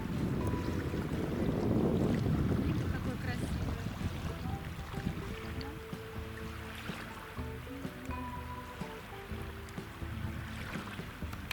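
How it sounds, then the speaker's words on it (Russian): Wind blowing on the Baltic Sea shore with water washing in the background, a broad, moderate rush that is loudest early on, while someone speaks over it. "А это, собственно, замечательный берег Балтийского моря."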